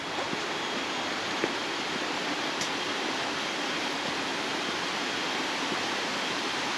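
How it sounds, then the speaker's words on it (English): Stream and waterfall on a working farm in Bali, a steady broadband rush of falling and flowing water that stays even and fairly close throughout, with no talking. "There's a stream, there's a fish pond, there's a waterfall,"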